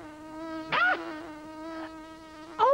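A buzzing wasp sound effect from the 1991 children's TV show Grotbags: a steady, droning insect buzz runs throughout, swelling into louder, wavering bursts near the start and again at the end, with no talk over it.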